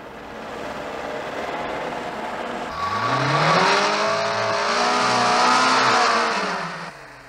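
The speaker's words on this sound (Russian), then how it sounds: "Сейчас заглохнет мотор." A 1980s car engine labours in the wrong gear and seems close to stalling, its drone rising and falling in a strained rev over a gritty background roar.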